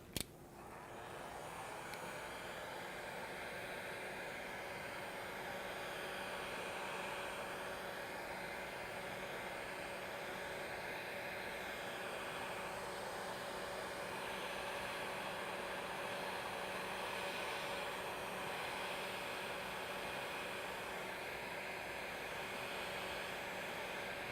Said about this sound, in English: now I'm going to quickly dry these and hopefully not burn everything up